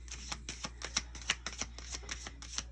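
A deck of playing cards is shuffled in a quiet room, giving a run of crisp riffling clicks and soft flutters spaced roughly every third of a second over a low steady hum, close and fairly faint.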